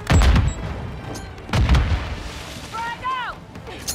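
A frag grenade in Warzone 2 goes off twice, two heavy booming blasts about a second and a half apart, each with a deep low rumble, followed by fainter game effects and chirping tones.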